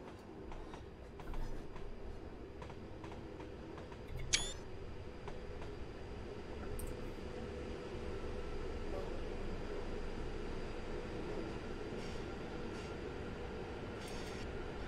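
An Avanti West Coast Pendolino runs on northern lines near Blackpool in Train Simulator 2020, a steady low rumble with faint clicks and a voice at times above it.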